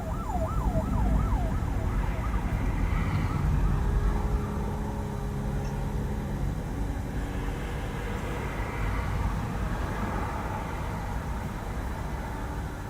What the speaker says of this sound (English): he just sounded the siren, and now he's about to dump water